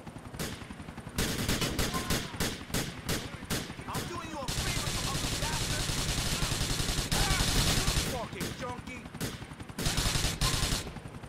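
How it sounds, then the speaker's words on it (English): Close, loud gunfire in a GTA IV police mod (LCPDFR) shootout comes as rapid bursts and sustained automatic volleys, with short pauses between strings of shots. "they are firing at us"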